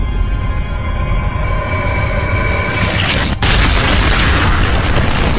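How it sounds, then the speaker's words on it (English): A colossus statue collapsing inward in the video game Shadow of the Colossus, a loud sustained rumbling boom with a sharp crack near the end, dense and continuous with no talk. "The statue imploded."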